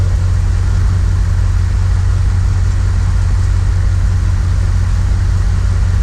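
A Ram 1500 pickup truck engine idles with a steady, deep hum, continuous and loud up close, with no change in pitch and no voices.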